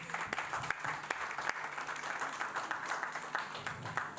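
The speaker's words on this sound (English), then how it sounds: "Can we give him a round of applause?" A crowd applauds steadily, many hands clapping in a dense patter that continues throughout at moderate volume.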